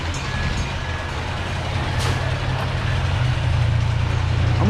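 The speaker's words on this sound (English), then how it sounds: "I hear the train behind me too" A small amusement park train rumbles past outdoors at DelGrosso's Amusement Park, a steady low, dense rumble with a faint metallic squeal, moderately loud and building slightly toward the end.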